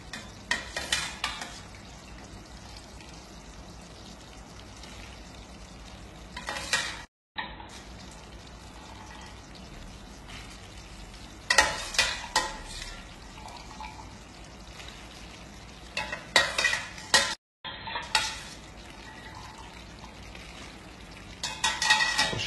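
Cooked pasta stirred into a creamy rose sauce with chicken in a pan, soft wet squelching and scraping of the utensil, fairly quiet and close, with a few brief gaps.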